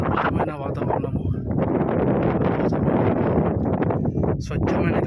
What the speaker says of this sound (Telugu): స్వచ్ఛమైన గాలి వస్తుంది పై నుంచి.